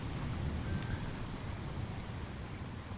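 Steady rain hiss with a low rumble plays alone in a music track, an even, continuous wash with no voices.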